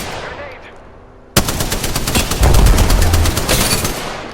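Rapid single gunshots from a Spitfire in the video game Apex Legends, a loud burst of evenly spaced shots starting abruptly after a quieter lead-in and continuing steadily to the end.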